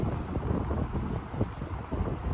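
Wind buffets a microphone outdoors in Jeddah, a steady low rumbling roar with gusty fluctuations filling the whole moment, no voices.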